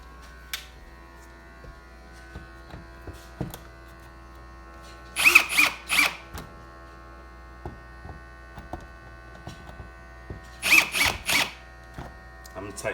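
A power driver snugs up the screws on window blind brackets in two short buzzing bursts several seconds apart, each a few quick whirring pulses, close by over a steady electrical hum.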